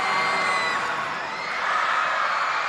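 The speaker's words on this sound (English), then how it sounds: "as the crowd gets loud here at the Saville Centre" A basketball crowd at the Saville Centre during a Canada West women's game between Regina and Alberta swells into loud, dense cheering and whooping, a continuous roar with no clear talk on top.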